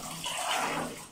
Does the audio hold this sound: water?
yes